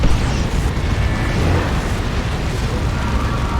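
Explosions from an orbital strike in the Warhammer 40,000: Dawn of War 2 game rumble as a dense, loud, continuous roar of blasts that fills the whole stretch without letup.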